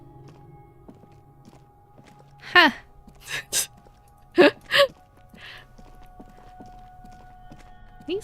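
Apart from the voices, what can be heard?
footsteps in the video game Disco Elysium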